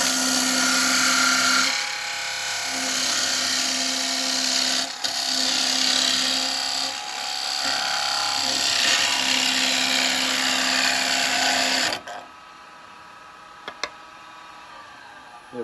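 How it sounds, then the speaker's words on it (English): A carbide parting tool cuts into a wooden bowl spinning on a lathe, a loud continuous scraping hum with the motor's drone under it for about twelve seconds, dipping briefly between passes before the cutting stops. "I'm going to use a parting tool to take this off first"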